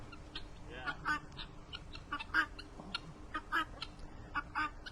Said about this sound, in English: The guinea hens are trying to come and see.